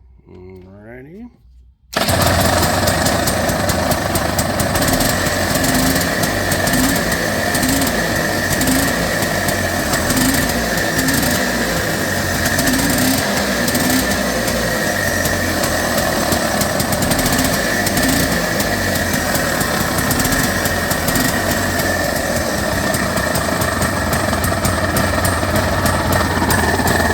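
A rebuilt 1989 Honda Pilot engine, started on full choke, bursts into life after a moment of quiet and runs loud and close with a harsh, rough, clattering idle that holds steady to the end.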